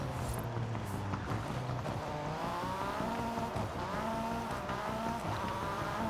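A Porsche 911 RSR race car in Forza Horizon 5 drives with a continuous high engine whine that rises and dips as it shifts and revs, with steady road and tire noise underneath.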